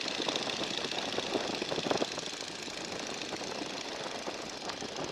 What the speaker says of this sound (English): So real slow, bring the power all the way back to idle.